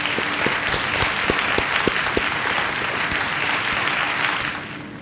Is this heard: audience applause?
yes